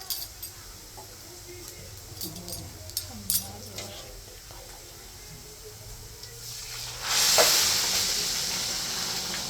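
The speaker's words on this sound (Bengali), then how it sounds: "গরম জলটা দিয়ে দিলাম।" Hot water poured into a pan of fried rice bursts into a loud, steady hiss and sizzle late on, after a quieter stretch of faint kitchen clatter.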